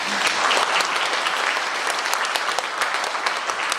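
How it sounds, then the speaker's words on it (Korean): A crowd at a Korean lawmaker's constituency report meeting gives thanks with loud, sustained applause, a dense crackle of many hands close by. "이 자리에 농협 관계자분들 계실 때 감사의 박수 부탁드립니다."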